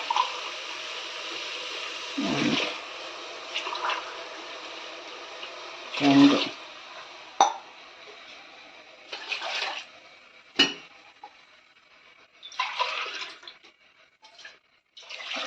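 Short bursts of water pour and splash into a pot at intervals while cooking vegetable biryani, separated by quiet gaps and faint kitchen clinks.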